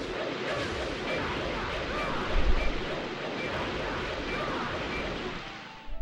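A boss's explosion attack in the video game .hack//G.U. Vol. 1: Rebirth, a dense, sustained roar of blasts and rumbling that holds steady for several seconds, with a heavier low thump partway through.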